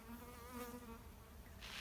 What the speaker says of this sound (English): I'm getting swarmed by bees.